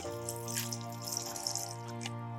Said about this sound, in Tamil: இப்போ எல்லாம் போட்டு நம்ம இந்த 1 கப்பு தண்ணி ஊற்றுறோம்